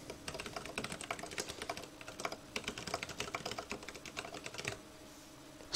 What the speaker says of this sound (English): So I'm just going to type, you know, the common phrase, the quick brown fox, whatever